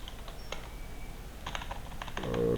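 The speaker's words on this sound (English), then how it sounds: "I can keep typing my point." Keys tapped on a computer keyboard while entering text into a Microsoft Word document, a sparse run of clicks with short pauses, then a faster burst near the end with a faint tonal hum underneath.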